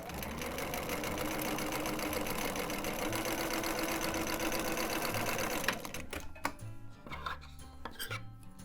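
A domestic sewing machine runs a wide zigzag stitch down knit fabric, a steady fast mechanical whirr for several seconds, then stopping and giving a few short bursts of stitching.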